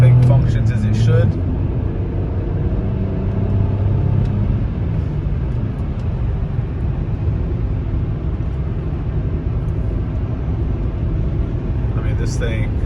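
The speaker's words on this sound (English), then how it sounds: "We'll stay in second gear." BMW X5 Sport with a rare six-speed manual, engine held in second gear while driving: a steady low rumble with strong low harmonics runs throughout, a little louder at the start, with a brief burst of traffic noise near the end.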